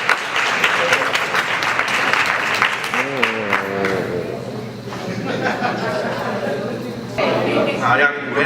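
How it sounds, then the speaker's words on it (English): A crowd at an education event applauds as a speaker comes up, a steady wash of clapping with voices talking and calling out over it. "If you could give him a warm round of applause while he comes up."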